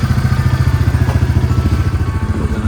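A four-wheeler ATV idling close by in snow, a steady loud low throbbing engine rumble with an even rapid pulse throughout.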